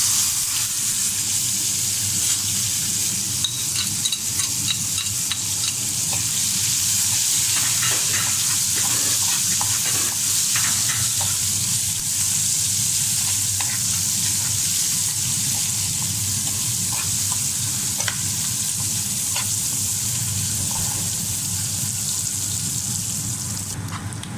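Onions frying in hot oil in a pan for achari bhindi, an okra curry, give a steady broadband sizzle that runs continuously for the whole stretch, with faint clinks and no voices.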